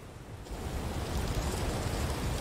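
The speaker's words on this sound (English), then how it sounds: "It's raining outside," Steady rain falling outdoors, a soft continuous hiss that swells slightly after the start and holds evenly at moderate loudness, with no talking.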